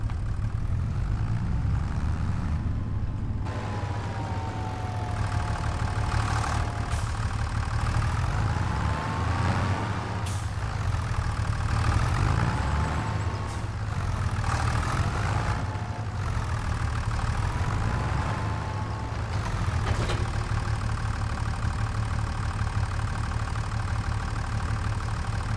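A tractor in need of repair idles steadily in Farming Simulator 25, a deep continuous engine rumble held at a constant level for the whole stretch, with faint whining tones drifting above it.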